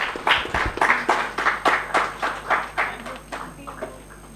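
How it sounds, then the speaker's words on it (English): A round of clapping from an award ceremony audience honouring certificate recipients, a loose crowd of hands beating in uneven bursts that gradually thin and fade toward the end. "Huge round of applause, guys, for everybody."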